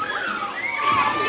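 Water sloshing and splashing at a neighborhood water park on a summer day, a continuous close wash of moving water with a voice speaking over it.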